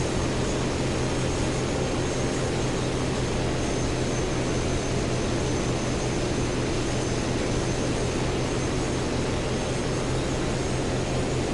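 A Wyvern aircraft engine drones steadily in the War Thunder video game, a loud, unbroken roar with a low hum underneath that holds for the whole stretch, with no voices.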